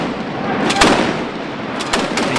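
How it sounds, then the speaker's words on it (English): An anti-aircraft gun fires loud, sharp blasts, one heavy report followed later by a quick cluster of shots, each cracking out over a rumbling background. "This is an anti-aircraft gun."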